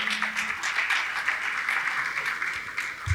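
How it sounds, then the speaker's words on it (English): Steady audience applause at an annual CEO round table banquet, a dense wash of clapping hands held at an even level throughout. "Please give him a round of applause."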